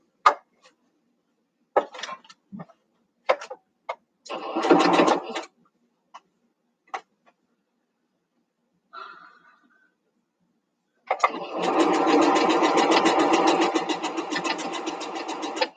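A sewing machine stitching a quilt block, heard in short bursts of rapid mechanical stitching followed by a longer steady run near the end, close and fairly loud with quiet gaps between.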